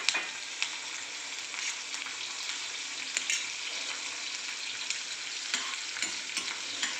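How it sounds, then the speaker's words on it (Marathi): Cumin seeds and green chillies sizzling in hot oil for sabudana khichdi, a bright, steady crackling hiss close by with a few sharper pops and spatters throughout. "जिरा फुलला की आपण त्यात मिरच्या टाकून घेऊया"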